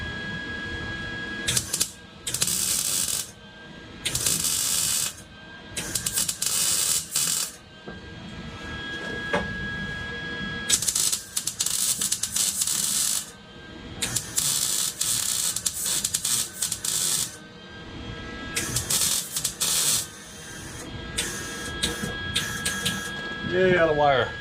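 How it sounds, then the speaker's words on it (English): MIG welding on a turbo LS-swapped Crown Victoria comes as repeated crackling, buzzing bursts of a few seconds each, separated by short pauses, with someone talking quietly between the welds. "Firmly weld it up all the way."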